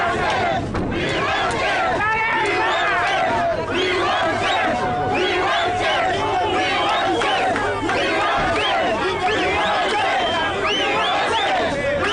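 A large crowd of hundreds shouts and chants continuously outside a court and in the surrounding streets, a dense, loud roar of many voices with whoops and yells rising throughout.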